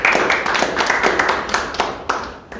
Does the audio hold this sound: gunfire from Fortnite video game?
no